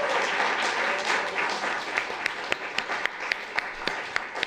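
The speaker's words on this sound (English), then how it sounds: "I want to give everybody a huge round of applause" Audience at a San Francisco Public Library event for Section 504 protestors applauding, a dense wash of clapping that thins into a few distinct, spaced claps by the end.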